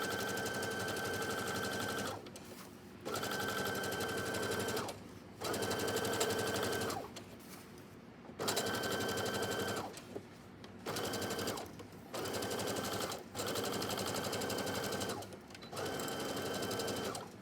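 A sewing machine stitches a seam on a pair of pants in repeated loud, close runs of a few seconds each, separated by short pauses, with no voices.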